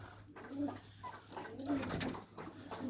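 Pigeons kept as pet birds coo in repeated soft, low phrases close by during feeding, with faint background noise and no talk.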